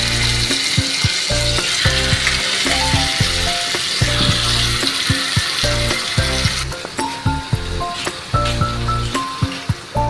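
Chicken hitting a pan of fried onions dusted with chili powder gives a steady, close sizzle, with clattering stirring sounds throughout and no talk.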